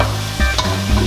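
Onions sizzle and fry in a drizzle of olive oil, a steady close crackle with brief stirring scrapes breaking through, no voices.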